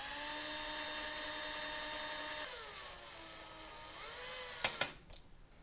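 A power drill driving junction box screws into a ceiling mounting plate for a Westinghouse pulley light fixture, a steady high whine that drops in pitch and strains before a few sharp clicks as it stops.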